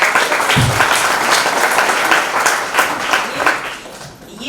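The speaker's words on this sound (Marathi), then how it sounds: "खरंच मला वाटतं एकदम जोरदार टाळ्या" An audience at an anniversary event of a rehabilitation centre bursts into sustained, loud applause, dense clapping that carries on steadily for several seconds with no voices over it.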